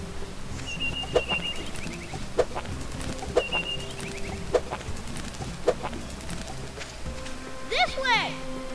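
Short clucking calls from a bird in A Boy and His Blob on the Wii, coming in a steady string of sharp chirps about once a second over background game music, with a player talking throughout.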